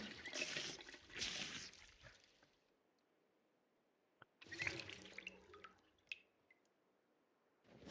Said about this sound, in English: I thought I was filling water, but apparently he was washing something.